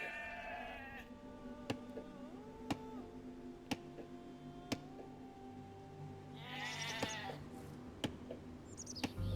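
Sheep bleat a few times over a steady ticking beat and quiet background music in Age of Empires II: Definitive Edition, faint and without speech.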